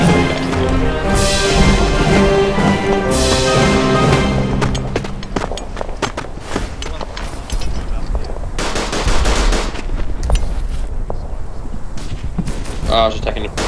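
Rifle and machine-gun fire in the World War I shooter Verdun sounds as rapid sharp reports and bursts in irregular clusters throughout, loud and close, with a voice talking over the gunfire.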